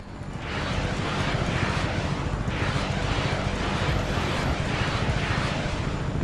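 A jet aircraft roaring past in the video game Just Cause 3, a loud, steady wash of engine noise that swells in quickly and stays dense throughout, with no talk over it.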